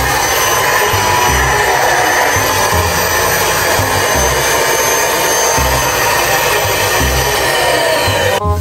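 A vacuum cleaner roars continuously and loudly, sucking the air out of a large trash bag with a person inside, its steady whine and rushing airflow filling the scene with a low pulsing undertone.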